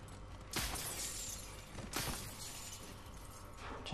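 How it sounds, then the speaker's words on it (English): Glass shatters twice in Call of Duty: Advanced Warfare Exo Zombies, two sharp crashes about a second and a half apart over a low background hum, fairly faint overall. "Just break the glass so that if you're getting chased down by zombies, you can get out a couple different ways."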